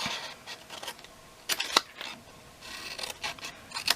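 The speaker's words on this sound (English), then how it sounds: "So we want to cut down here and notch a little bit" Scissors cutting and notching a cardboard candle gift box, heard as a series of short, crisp snips spaced irregularly, close and fairly quiet, with no talking.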